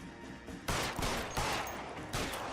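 Gunfire in the detective video game L.A. Noire: about four sharp shots or short bursts, spaced unevenly over a quiet background, fairly soft overall.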